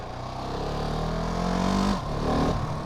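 A Husqvarna 701 Supermoto single-cylinder engine revs up in a rising whine, briefly drops off, then picks up again, loud and close.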